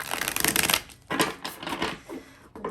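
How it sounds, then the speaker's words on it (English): A deck of tarot cards shuffled up close, with bursts of crisp riffling and flicking separated by short pauses. "shuffling the cards"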